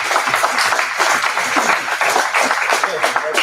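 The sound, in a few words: audience applause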